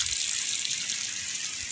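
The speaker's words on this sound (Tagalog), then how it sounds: "Pero pag binuhusan yan mga idol mga tubig, tingnan nyo mga idol busan ko ng tubig." Water gushes steadily as it is poured onto dry, wilted vegetable plants in a planted field, a short, soft splashing rush with no pauses.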